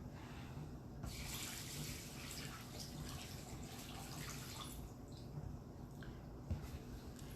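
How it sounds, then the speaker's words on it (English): Running water streams from a tap into an Instant Pot pressure cooker, a soft continuous splashing rush with faint clinks, heard close and quietly. "you add your water."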